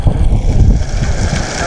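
Strong wind roars against the microphone while someone rides a bicycle outdoors, a loud, continuous low rumble that buffets unevenly throughout.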